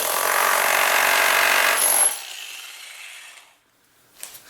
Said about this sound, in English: Their electric 1000 watt jackhammer.